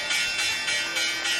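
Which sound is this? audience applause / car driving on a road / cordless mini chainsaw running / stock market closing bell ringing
stock market closing bell ringing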